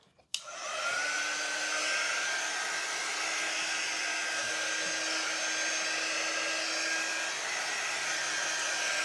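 A hair dryer blows steadily and loud at close range over a freshly made peppermint serving tray, switching on with a click and then holding a continuous whooshing roar throughout.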